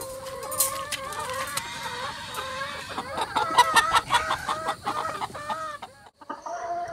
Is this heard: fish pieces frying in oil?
no